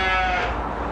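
A sheep bleats once, loud and close, a single wavering cry that fills the brief moment.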